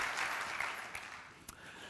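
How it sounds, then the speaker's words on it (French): Conference keynote audience clapping for a speaker taking the stage, a soft, steady patter of applause heard from a distance with a couple of sharper isolated claps. "Un applaudissement, Jérôme Catassoni"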